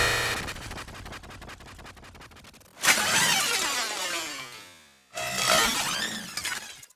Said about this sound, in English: I'm going to be using the Melda comb filter to create some sci-fi and glitchy textures